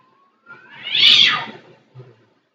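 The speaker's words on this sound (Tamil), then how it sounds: "வெளியே பூனை கத்திக்கிட்டு இருக்கு" A cat yowls outside, one drawn-out rising and falling wail, fairly loud and close, followed by a short low murmur.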